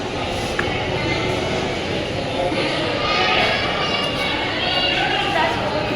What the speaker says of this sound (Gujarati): દ્વારકાનું રેલવે સ્ટેશન